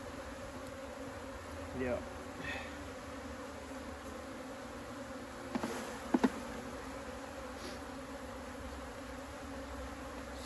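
Bees hum softly and steadily through a hive inspection, with a faint, continuous buzz, a brief close whine near the start, a few sharp knocks from handled frames midway, and one short spoken word.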